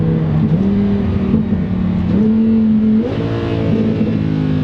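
A loud 1100 hp twin-turbo Lamborghini Performante engine drones and rises through several rev steps, holding a steady throaty tone close by with no voices.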